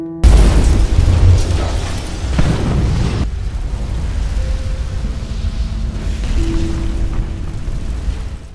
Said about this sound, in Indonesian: lab itu sudah terpasang satu bom peledak.